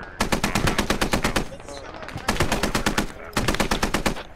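A .50 cal machine gun in the Squad video game fires three long, loud, rapid bursts, with short pauses between them.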